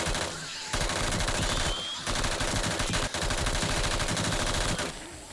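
An AK rifle fires at zombies in the game 7 Days To Die: loud, close, rapid sustained bursts of automatic gunfire with a couple of brief gaps between volleys.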